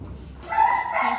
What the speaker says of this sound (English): This is a stray beagle.